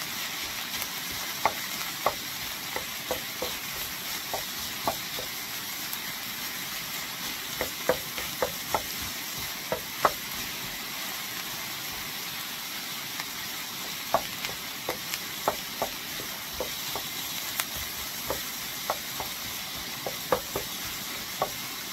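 Meat and peppers fry in oil over a flame for dirty rice, a constant close sizzle broken by frequent sharp clicks and scrapes of stirring, with no voices.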